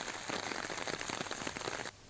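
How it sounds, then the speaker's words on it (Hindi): Heavy rain pours down steadily in a dense patter on surfaces, fairly faint, then stops abruptly near the end; no voices. "बारां जिले के बीते 3 दिनों से लगातार बारिश जारी है"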